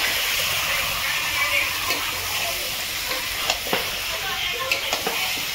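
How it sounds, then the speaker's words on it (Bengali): Meat sautéed with spices in a pan over medium flame gives off a steady bright sizzle, with scattered scrapes and taps of stirring throughout. "মাংসটাকে সুন্দরভাবে আমরা কষাতে থাকবো।"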